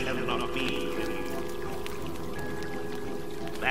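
Blessed water pouring in a temple scene from a video game, a steady continuous trickling stream under a speaking voice.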